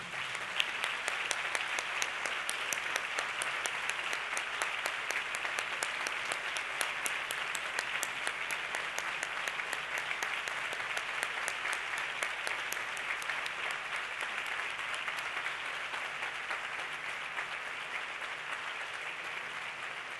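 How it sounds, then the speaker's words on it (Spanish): An audience at a 2017 educational excellence awards gala applauds steadily and loudly for about twenty seconds, a dense, even wash of clapping with no talking over it. "todos y todas les damos un fuerte aplauso"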